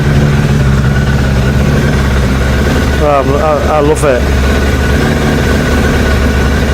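A Suzuki Bandit motorcycle engine idles steadily and loud, a continuous low rumble throughout, with a voice briefly speaking over it partway through.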